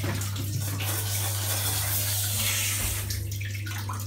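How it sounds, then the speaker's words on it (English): Cold water pours steadily in a shower over a person, a constant loud hiss and splash lasting several seconds with a low background hum. "you pour cold water straight on"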